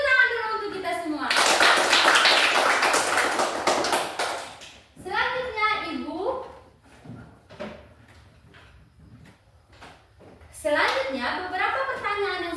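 Children in a classroom clap together for a few seconds in a loud, dense burst of applause, then it fades as a teacher and kids talk.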